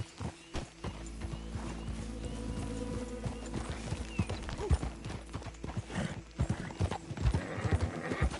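Horse hooves clip-clop steadily through a Red Dead-style western town in a PS4 game, with a brief whinny, under a continuous low rumble of ambient game sound.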